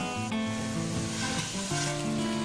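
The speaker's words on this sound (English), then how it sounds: "So these potatoes now I'll be putting into the chili fry." Browned, fully cooked potatoes sizzle as they go into a chilli fry of cocktail sausages and salami, a steady close frying hiss with stirring under a faint background tone, no voices.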